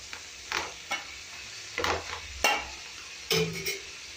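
Spinach stirred and mixed in a cooking pan, a handful of separate scraping strokes and light utensil knocks against the pan with a faint sizzle, close and clear.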